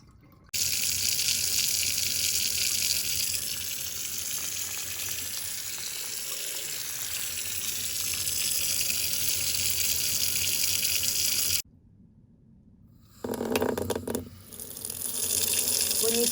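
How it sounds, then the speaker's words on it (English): A nozzle aimed straight down at a surface sends out a strong, steady rush of water, demonstrating a thunderstorm downburst. The loud gush runs unbroken for about eleven seconds, cuts off, then starts again. "The fast and localized rush of water represents the fast downdraft from a thunderstorm."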